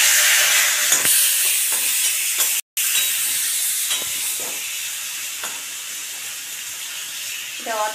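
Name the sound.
fish head frying in hot oil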